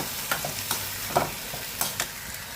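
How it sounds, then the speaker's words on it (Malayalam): Coconut frying in a pan is stirred with a few brisk scraping strokes over a soft, steady sizzle, close and moderately quiet, with no voices. "തേങ്ങ പൊരിക്കതിട്ട് ഇങ്ങനെ ഇളക്കി കുറച്ച് നേരം വെക്കാം."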